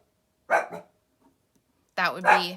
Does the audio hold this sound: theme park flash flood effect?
no